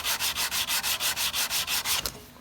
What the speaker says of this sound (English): There's no shortcut in the work of getting this sanded to beautiful.